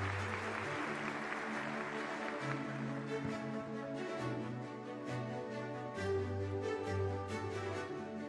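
An audience at a formal ceremony claps steadily and fairly loudly, the applause running the whole time beneath a held musical tone.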